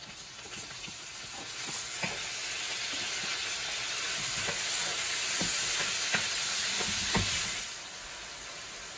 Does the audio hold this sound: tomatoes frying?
yes